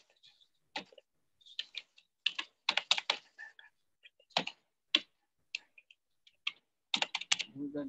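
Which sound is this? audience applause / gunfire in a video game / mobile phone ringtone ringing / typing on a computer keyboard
typing on a computer keyboard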